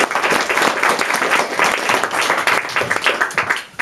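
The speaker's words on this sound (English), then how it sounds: "I hope you give a nice round of applause to Sandra." A crowd at a public meeting on Scottish independence in Dalry gives a warm round of applause, dense steady clapping close by that begins to thin out at the end.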